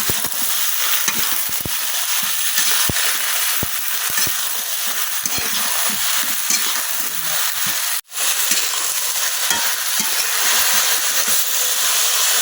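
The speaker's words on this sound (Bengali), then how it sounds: "সবজিগুলো হালকা ভাজা নিলাম" Chopped mixed vegetables frying lightly in a pan after onions, a continuous bright sizzle with scattered crackles and stirring clicks, close and alone, briefly cut off near the end before resuming.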